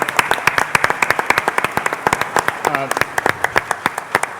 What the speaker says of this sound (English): can we just give a round of applause to the conference organizers, Jeannie and Frank, Doug.